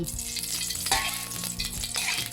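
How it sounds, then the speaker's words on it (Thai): Oil sizzles and crackles steadily in a hot wok, a continuous close frying hiss with no one speaking. "หลังจากที่กระทะร้อนแล้วเนี่ยเราก็ใส่น้ำมันลงไป"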